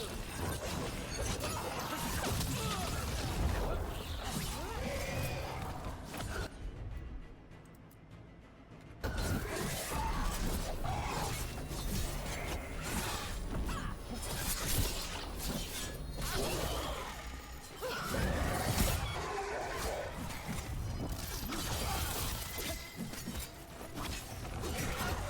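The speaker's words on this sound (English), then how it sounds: "there's just so much explosions going on right now." Explosions and combat in the video game Dragon Age: The Veilguard, with dense loud crashes, shattering and whooshing bursts that briefly drop away before resuming, and a voice talking intermittently.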